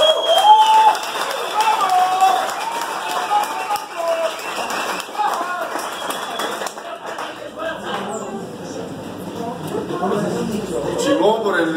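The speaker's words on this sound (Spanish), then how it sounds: "Un aplauso para toda la banda de Díaz Mirón" A group in Ciudad Neza, Área 57200 Díaz Mirón, applauds together: a broad, steady patter of many hands running the whole stretch, with voices talking and calling over it.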